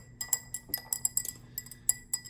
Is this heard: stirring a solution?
yes